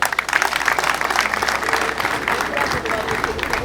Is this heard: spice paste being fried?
no